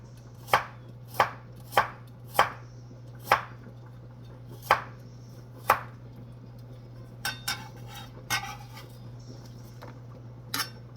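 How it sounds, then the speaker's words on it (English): A knife chops carrots into round slices on a cutting board for a Jamaican meal, sounding as about seven crisp, evenly spaced knocks followed by a few lighter, scattered taps, close by and with no talking. "So what I do, I cut my carrots in round slices."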